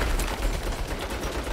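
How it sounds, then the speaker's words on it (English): Turret gunfire in a Saints Row game, a fast, loud automatic rattle of rounds pounding continuously, close and harsh with no talk. "Holy shit! Turret!"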